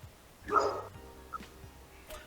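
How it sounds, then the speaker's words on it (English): A dog lets out one bark close by, followed by a couple of faint, softer yips or whimpers in an otherwise quiet room. "I don't know if you guys can hear my dog"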